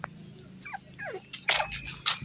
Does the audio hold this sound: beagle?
yes